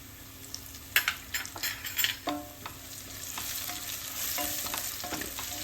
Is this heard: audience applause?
no